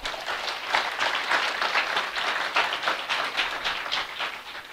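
Audience applause at an engineering seminar on collaboration and linkages, honoring engineer Nasir Khan: steady, dense clapping from a room of attendees, moderately loud and continuous throughout with no talk over it.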